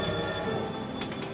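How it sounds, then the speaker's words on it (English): A train ride in the video game Kingdom Hearts II: a steady rolling rumble with high metallic squealing tones and a brief wheel screech near the end. "When suddenly you're riding a train and then you're in space."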